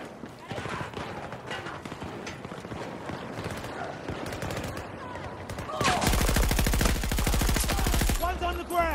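Rapid gunfire in a video game shooter, with dense bursts of automatic fire that turn into a loud, sustained stream of shots in the second half. Faint voices may sit under the firing.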